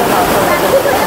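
Water rushes down Lodh Falls in Jharkhand, making a steady, broad roar with no breaks throughout.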